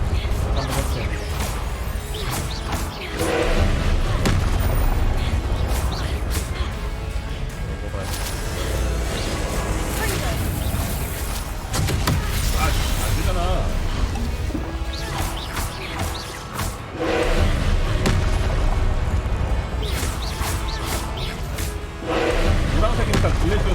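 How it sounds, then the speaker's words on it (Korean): Blasts and crashes from an explosion spell cast in Hogwarts Legacy, repeated impacts and smashing debris over about twenty seconds, loud and dense with a steady background bed, with speech mixed in. "아하, 폭발 마법으로 하면 되죠."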